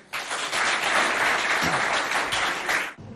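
A school audience applauds steadily for about three seconds at a high school quiz contest, a dense wash of clapping that cuts off abruptly near the end.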